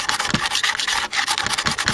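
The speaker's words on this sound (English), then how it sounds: "I'm scraping it off with the razor blade like this" Short, rasping scrapes of a razor blade across a wooden tube tester case, removing peeling finish, repeated in quick strokes at close range with no voices.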